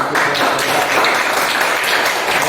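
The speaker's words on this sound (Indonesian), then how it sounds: "Tepuk tangan." Classroom applause from students, a dense burst of hand clapping that stays loud and even for the whole short stretch.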